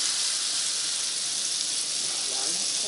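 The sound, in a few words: butter sizzling in the pan for béchamel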